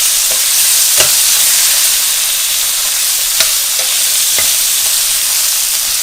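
Shrimp and peppers sizzle steadily in a frying pan, a continuous bright hiss with a few sharp clicks of stirring or utensil taps scattered through, close and fairly loud with no talking.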